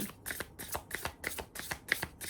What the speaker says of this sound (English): let's pull a card from the Inner Child Oracle deck